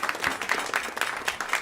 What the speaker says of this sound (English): A round of applause for our composer.